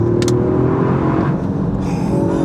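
A Toyota GR Yaris engine accelerates while driving, with a steady, loud in-cabin drone and rumble that rises slightly in pitch, plus faint road noise and no talking.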